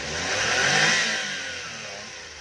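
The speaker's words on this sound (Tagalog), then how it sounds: "Maganda pa yung makina," A 2012 Suzuki Every Wagon Smiley Edition with about 180,000 km revs its engine nearby, rising to a loud, broad roar and then easing back down.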